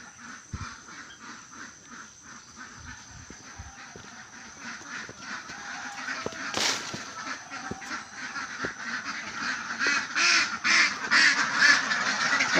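Domestic ducks quack in a chorus, with scattered calls early on that build into a louder, denser flock chatter toward the end, heard from a short distance with faint background hiss.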